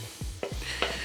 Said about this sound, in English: Let's get this mixture out of the pan.